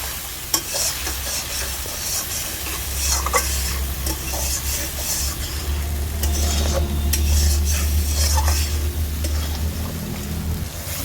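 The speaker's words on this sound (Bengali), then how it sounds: "এবার মশলাটাকে আমি বেশ কিছুক্ষণ কষিয়ে নেব" Mustard-poppy spice paste with turmeric and sugar sautéed in a pan for a pointed gourd dish, loud continuous sizzle with repeated scraping stirs of a spatula and low rumbling bursts, no talking.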